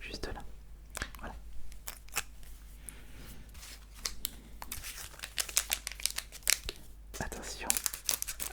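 Scissors snip and crinkle through the foil wrapper of a Pokémon booster pack, a series of close, crisp cuts and rustles in a quiet room, with a voice whispering in between.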